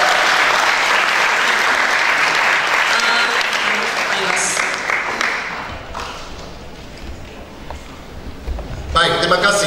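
Audience applause at an Indonesian church talk session, a dense steady clapping wash from a crowd that thins toward the end, with voices murmuring and a brief burst of renewed clapping at the close.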